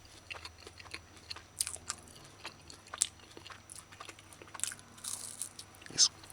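Crunchy okra fritters bitten and chewed close up, a run of irregular crisp crunches and bites over several seconds with no talking.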